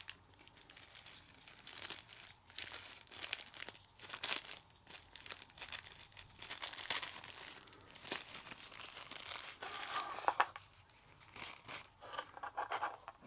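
A small plastic bag of flashlight accessories is opened and handled up close, with quiet, irregular crinkling and rustling in short bursts, a few sharper tearing crackles around the middle.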